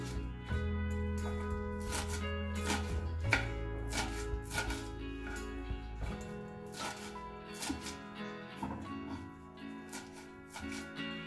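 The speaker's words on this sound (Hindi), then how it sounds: "अब इस मेथी को हमें बिल्कुल बारीक बारीक चॉप कर देना है।" A knife finely chops fresh fenugreek (methi) leaves on a board for methi paratha, giving quick, steady, close-up strokes that continue throughout over a low background hum.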